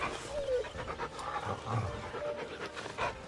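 A dog in Final Fantasy XIV gives soft panting and a brief whine, faint and close, over low ambient game sound.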